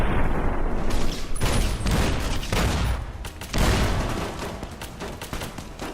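A grenade explosion and gunfire in a Mojave-set video game burst out close and loud, with dense rattling volleys and heavy booms layered over a continuous rumble, with no talking.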